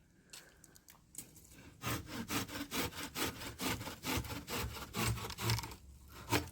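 A hand saw cutting through a wooden branch while pruning a persimmon or jujube tree outdoors, steady rhythmic back-and-forth strokes, fairly close and moderately loud, with no talking.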